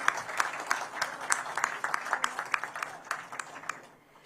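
At the inauguration ceremony of the first phase of an outsourced semiconductor assembly and test plant, a roomful of people applauds, with distinct claps rattling through a moderately loud, steady round that thins out and fades at the end.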